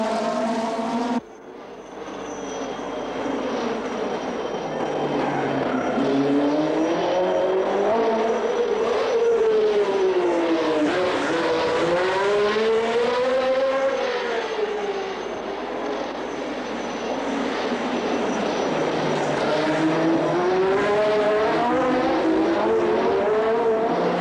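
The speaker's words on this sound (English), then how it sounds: "The cars string out, and a 5-yard lead here can be worth double on any other circuit." Race cars at the 1969 Monaco Grand Prix: engines howl past, rising and falling in pitch as they pass, loud and sustained with overlapping engine notes from several cars.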